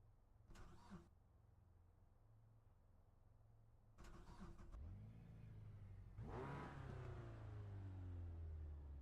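A Mazda race car engine starts up and revs in a Mazda Global racing video game, cranking twice before catching and settling into a steady idle with rising revs, loud and close with no talk.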